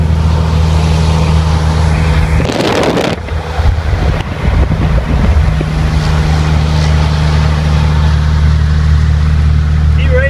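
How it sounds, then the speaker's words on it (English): A lifted, jacked-up Cummins diesel pickup with an NV5600 six-speed and big tires, driving with a loud, steady low exhaust drone and wind buffeting throughout, while people talk over it. "Listen to that exhaust"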